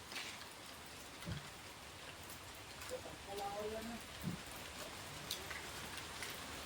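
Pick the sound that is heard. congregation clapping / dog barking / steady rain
steady rain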